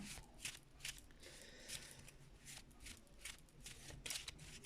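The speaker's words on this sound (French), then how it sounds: "Je coupe toujours mes cartes comme ça." A deck of oracle cards being shuffled and cut by hand, a quiet, close run of riffling, slapping flutters repeating in uneven bursts with no talking.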